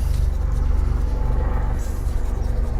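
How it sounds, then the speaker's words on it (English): A helicopter flies overhead during outdoor plant repotting, giving a continuous low rhythmic thumping rumble that stays steady and fairly loud throughout. "Sorry about the helicopter noise."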